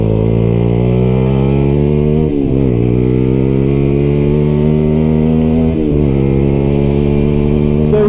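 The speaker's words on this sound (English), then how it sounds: "She's loud, as you can probably tell. She is very loud." A 125cc sport motorcycle with an aftermarket exhaust sits at a loud, close, steady engine note, with two brief dips where the revs drop and recover, and no talking.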